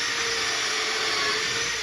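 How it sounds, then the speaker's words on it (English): Drill fitted with a countersinking bit boring a pilot hole into wood for spindle walls, a steady loud whine held at one pitch from start to finish, close by, with no voices over it. "I'm going to sit here and drill a hole"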